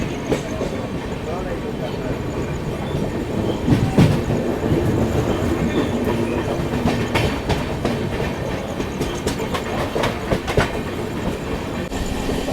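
The Sampoorna Kranti Express rushes past the oncoming Magadh Express, with rhythmic clickety-clack of wheels over rail joints, loud rumbling and repeated sharp rattling bursts from passing coaches. A voice talks intermittently over the noise.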